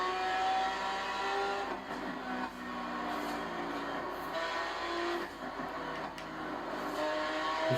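Race cars in Forza Horizon 3 on Xbox One roar and whine continuously as they drive and overtake, engine tones shifting up and down with close passes, loud and steady throughout.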